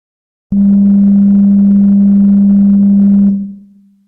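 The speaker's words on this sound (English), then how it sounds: "a sine wave will sound and not fade away" A pure, steady synthesized sine wave tone sounds abruptly, holds at a constant pitch for about three seconds, then fades quickly to a faint lingering hum.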